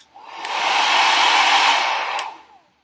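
A loud hair dryer on its high setting switches on with a click, roars steadily at full power for about two seconds, then clicks off and fades.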